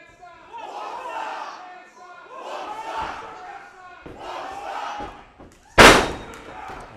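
A pro wrestling crowd cheers for Sanders during his debut match, rising and falling waves of shouting and cheering in a hall, then a loud thud in the ring, with a commentator talking throughout.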